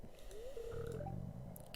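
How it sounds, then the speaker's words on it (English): A faint, short gurgling growl from a person's stomach and throat rises into a strained half-burp, heard alone in quiet. "my stomach and my throat made a weird growling noise"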